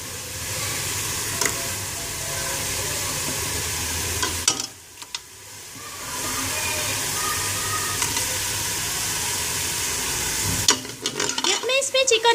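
Frying and stirring in a pan while making chicken nihari give a continuous close sizzle that briefly drops away, then resumes, with spatula scrapes and clatter near the end.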